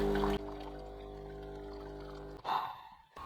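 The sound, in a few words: water flowing through Bosch Tassimo coffee machine while descaling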